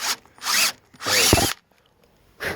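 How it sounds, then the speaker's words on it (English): Short bursts of a power drill biting into a sailboat transom, three quick runs with pauses between, close by. "I'll just drill halfway on one and then from the other side drill back through"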